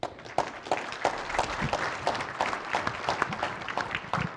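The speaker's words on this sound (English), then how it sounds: "Let's give Aaron a round of applause" Applause from an audience at a corporate event's opening session, a smaller group clapping with distinct individual claps audible in an uneven rhythm throughout, fairly close and moderately loud.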